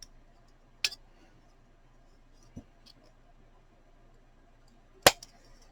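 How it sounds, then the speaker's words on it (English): Scissors snip through paper postage-style stamps in a quiet room, giving three sharp, isolated cuts spaced a couple of seconds apart. "Just cut it off with my scissors"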